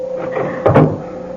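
A door is shut in a 1970s radio mystery drama: a quiet rustle, then a short sharp thud and scrape as it closes, near and alone with no speech.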